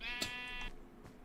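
A sheep bleats in the video game Minecraft, two short close bleats in quick succession with a fainter third one after a pause, heard alone without any talk.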